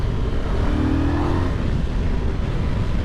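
Voge DS625X motorcycle engine pulling through the mid-range, a steady, close growl with slight rises in revs and no talking over it.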